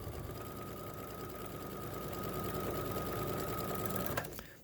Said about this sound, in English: I'm just going to stitch another line.